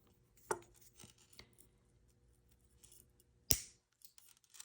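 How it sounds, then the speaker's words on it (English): Wire cutters snip through a link of a metal jewelry chain. Two sharp, close clicks sound, a faint one near the start and a louder one toward the end, over a quiet room with no talking. "So we're going to cut that link."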